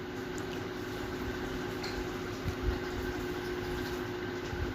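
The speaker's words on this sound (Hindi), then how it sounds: "अब इसको अच्छी तरह से हम फिर इसको भी भूनेंगे चिकन के साथ।" Chicken rogan josh with masala is being sautéed in a pan, giving a faint, steady bubbling squish under a constant hum, with a few soft stirs and squelches scattered through.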